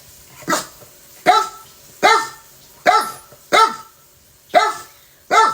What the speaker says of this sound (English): every time I start filming, they start arguing, barking at each other over toys